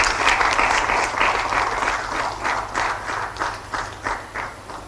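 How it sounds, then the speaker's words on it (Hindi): Enthusiastic applause from an audience at a government appointment-letter ceremony for newly selected district sports officers, steady broadband clapping with rhythmic surges throughout, fairly close and sustained. "जोश से भरी तालियां होती रही।"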